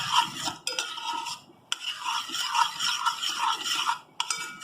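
Talbina being stirred in a pot on a stove, a spoon scraping and clinking against the metal in steady continuous strokes, close and fairly loud with brief pauses.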